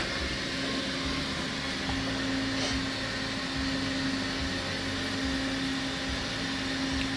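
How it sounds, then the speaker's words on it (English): A vacuum forming machine at a fishing tackle factory heats a plastic sheet and pulls it down by suction, making a steady, loud mechanical hum and rushing drone with a constant tonal whine throughout, no voices. "I'm going to hit the vacuum, it's going to light up and it's going to heat up for about 30 seconds and it vacuums down."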